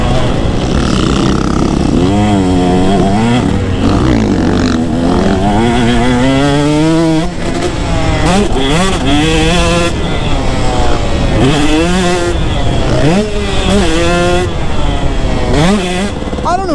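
A two-stroke motorcycle engine revs up and down repeatedly, loud and close, its buzzing pitch rising and falling in sweeps.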